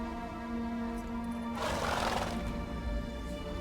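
Geralt's horse in the video game Witcher 3 lets out a single breathy neigh midway, over a steady ambient game soundscape with a sustained low musical tone.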